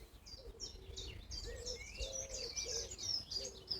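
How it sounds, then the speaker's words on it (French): Outdoors in open nature, several small birds chirp and twitter continuously from a moderate distance, with overlapping high tweets and a soft repeated cooing note underneath, against a steady quiet background hiss. "tu devrais entendre quelques petits sons d'oiseaux, peut-être aussi des abeilles"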